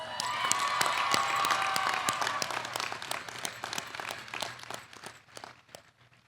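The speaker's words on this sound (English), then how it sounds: "Let's give them a round of applause." Audience applause for faculty at a Chico State graduation ceremony, a dense crowd clapping with a few louder individual claps, strong at first and then thinning out and fading toward the end.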